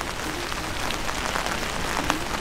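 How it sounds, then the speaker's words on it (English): Steady rain falls on a street in Wroclaw, Poland, a close, even hiss of drops on hard surfaces that continues without a break and with no voices. "But it's real raining now, so bear with us."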